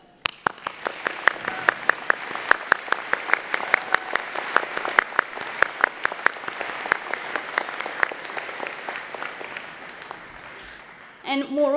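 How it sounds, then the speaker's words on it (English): Audience applause fills the hall at a University of Winnipeg convocation morning ceremony: a large crowd claps in a dense, steady roar for about ten seconds before it thins out and a new sound comes in at the end. "So let's give a round of applause to them."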